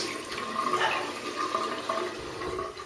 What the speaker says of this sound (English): Just rinse off